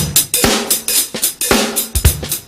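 A drum kit plays a short groove with varied hi-hat work, crisp cymbal strikes alternating with low kick and snare hits in a quick, steady rhythm, close and loud.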